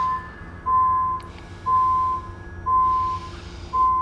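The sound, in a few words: beeping sound effect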